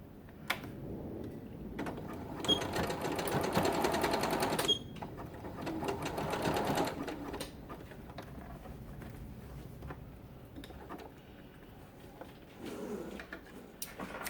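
A sewing machine stitches the corners of a quilted fabric journal cover, running in a loud, steady burst near the start, then in shorter bursts and brief pauses as it works each corner.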